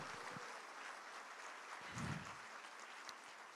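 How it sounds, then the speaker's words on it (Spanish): A church congregation applauds during a Spanish-language sermon, producing a low, even patter of clapping that lasts several seconds, faint and somewhat distant, with no voices over it. "Dale un aplauso de gloria a Dios"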